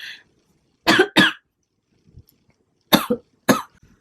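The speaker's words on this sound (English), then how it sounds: "I just went into a coughing fit there" Several sharp coughs in two quick pairs, close and loud, separated by quiet, with a faint throat sound between them.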